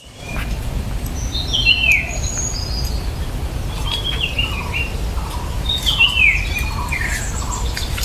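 A bird digging a nest hole in a forest gives squeaky, descending calls in two short bursts, fairly close, over a low rumbling background with no talk.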